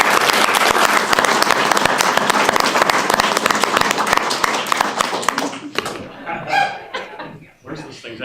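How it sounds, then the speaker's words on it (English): Applause for the staff at a city council meeting, a dense burst of clapping from the room that tapers off, followed by people talking. "So give your staff a round of applause."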